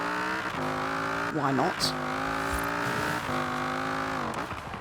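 A Camaro iROC-Z with a V10 and all-wheel drive in Forza Horizon 4 revs hard, its engine note rising and falling through gear changes, loud and close, with a brief spoken word over it.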